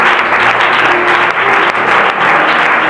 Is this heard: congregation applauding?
yes